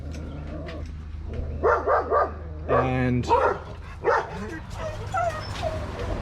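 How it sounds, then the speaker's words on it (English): Dogs bark in short bursts in the background, set off by another dog out front of a restored 1950s Bondwood caravan, with someone talking over them in the foreground. "there's a dog out the front making the dogs bark"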